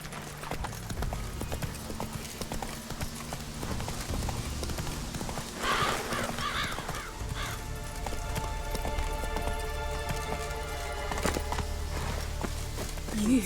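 Geralt's horse Roach walks in The Witcher 3, hooves clip-clopping in a steady close rhythm for several seconds, with a brief neigh partway and soft background game ambience.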